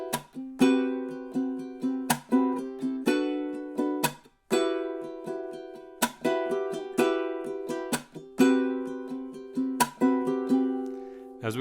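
Ukulele strummed through bars of a song, bright rhythmic chord strokes in steady groups with short pauses between phrases, close and clear, no speech over it.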